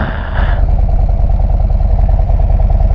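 A 2024 Harley-Davidson Street Glide engine idles loudly up close through the stock exhaust, a deep rhythmic thumping pulse that continues steadily after a brief higher-pitched noise at the start.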